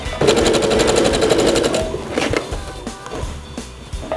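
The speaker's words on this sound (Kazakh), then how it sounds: "Етегін міне қыздар, етегін былай оверлок өткізгеннен кейін оверлоктың үстімен ғана тігіп шығамыз." A sewing machine stitches a dress hem over an overlocked seam in a fast, rattling burst of needle strokes lasting under two seconds, followed by a few lighter clicks and handling clatter.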